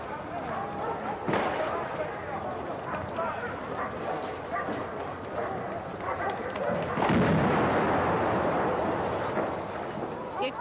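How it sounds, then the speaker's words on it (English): A bomb blast tears through the Iranian embassy building in London during the 1980 SAS assault, captured as broadcast news audio: dense rumbling and crackling gunfire-like bursts, with a heavy surge midway, amid crowd noise and voices. "The explosion ripped through the building."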